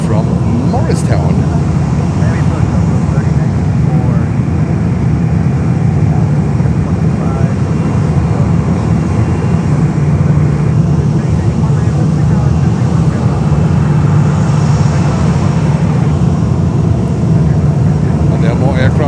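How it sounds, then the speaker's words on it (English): A NetJets Global 5500 business jet lands at Fort Lauderdale airport, its loud, steady jet roar filling the whole stretch while voices talk over it. "Next inbound is Netjets, a Global 5500 coming in from Morristown."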